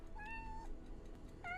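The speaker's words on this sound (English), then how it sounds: "The sound of a small kitten came from the darkness" A small kitten meows twice in the darkness: a clear, high, drawn-out mew, a pause, then a second rising mew starting near the end, close and fairly soft.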